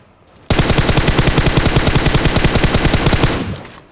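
Rapid automatic gunfire from the video game PUBG bursts in loud and close, a continuous rhythmic stream of shots lasting about three seconds before cutting off.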